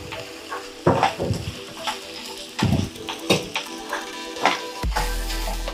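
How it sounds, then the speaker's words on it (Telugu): Grated raw mango frying in a pan, a close sizzle broken by several sharp scrapes and clatters of stirring spaced a second or so apart, with no talking. "ఈ మామిడికాయ కొంచెం పచ్చి వాసన పోయేంత వరకు ఫ్రై చేయాలి"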